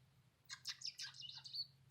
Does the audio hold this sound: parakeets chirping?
yes